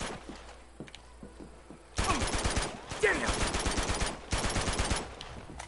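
Video game gunfire in Uncharted 2: Among Thieves. Quiet background clicks give way to loud, rapid automatic bursts that rattle on for several seconds, broken by short pauses.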